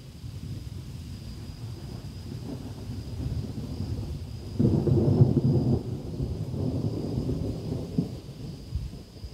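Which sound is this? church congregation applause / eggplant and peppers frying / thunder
thunder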